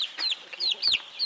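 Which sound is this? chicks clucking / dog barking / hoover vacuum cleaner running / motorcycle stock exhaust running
chicks clucking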